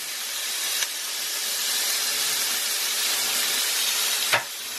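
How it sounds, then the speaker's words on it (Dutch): Strips of bacon sizzle in a frying pan with a steady, bright hiss that builds slightly over time, broken by two sharp clicks, close up and without speech. "Ondertussen gaan we verder met het spek bakken."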